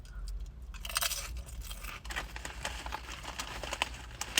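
Close, crisp crunching of thin, yellow Marks and Spencer crisps being chewed, with repeated irregular bites and no talking.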